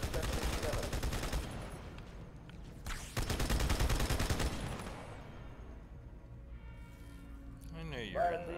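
Rapid turret gunfire in Halo 2 rattles in dense bursts across the first few seconds, pauses briefly, then returns in a second heavy stretch before thinning into quieter game sounds.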